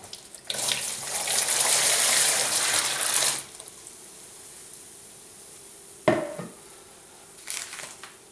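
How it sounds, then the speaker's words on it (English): Two liters of warm water poured into a sanitized primary fermenter for winemaking, a steady splashing gush for about three seconds, then a short clunk and a faint later splash, close and alone. "I'm going to add 2 liters of warm water"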